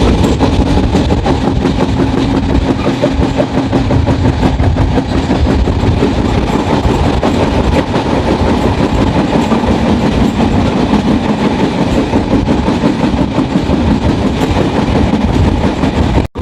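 Jahanabad Express passenger train running on rails toward Benapole, a loud steady rumble with rhythmic clickety-clack of wheels over rail joints heard from on board, no talk.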